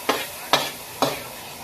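Onion sautéing in a pan with a spatula, three distinct scraping strokes at an even pace over a soft sizzle, close up and without speech.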